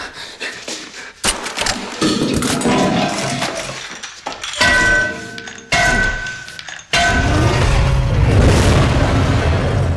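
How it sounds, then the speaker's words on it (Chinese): A nitrogen canister is smashed open with several heavy booming impacts and clinks, then a loud, sustained rush of spraying gas fills the last few seconds, set among dramatic film sound effects with no speech. "用力砸开之后，氮气瞬间喷涌而出。"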